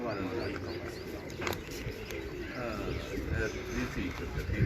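Pigeons at a Lahore pigeon-flying gathering coo softly amid a busy outdoor crowd, their low calls blending with steady background chatter and voices.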